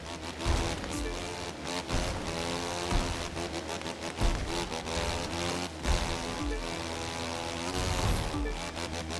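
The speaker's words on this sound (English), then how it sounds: "Listen to the engine." A buzzing vehicle engine in a racing video game drones continuously with irregular revving bursts and clattering, like a small motor working hard over rough ground.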